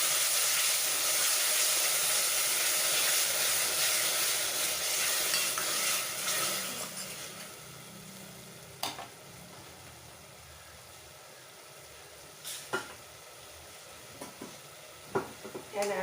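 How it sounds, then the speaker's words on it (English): Ground tomato and garlic frying in a pan for a spicy mutton chilli fry, a loud broadband sizzle at first that fades and quiets after about seven seconds, followed by a few sharp clicks and scrapes of stirring. "in goes the ground tomato and garlic. stir that all very well."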